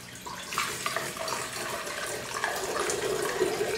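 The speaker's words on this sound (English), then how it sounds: "So, we're just gonna use a little water." A small amount of water pours steadily into a vessel while mead must is prepared, a soft continuous splashing and trickling heard close up with no talk.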